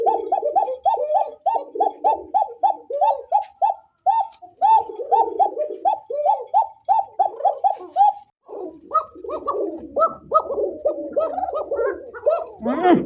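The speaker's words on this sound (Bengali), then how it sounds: "বাপরে বাপ, ককার ডাক।" Cocka breed pigeons cooing close by, rapid repeated throaty coos in bursts that pause briefly and then resume, with a voice at the end.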